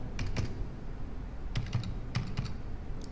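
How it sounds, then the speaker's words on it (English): Keys tapped on a computer keyboard in short clusters of quick, close clicks with gaps between, over a quiet room hum. "and then you can type"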